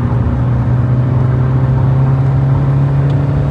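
Kia Sonet 1.5 diesel with a six-speed manual accelerating hard in third gear on the highway, a steady loud engine drone climbing toward high revs, close and continuous with no talk.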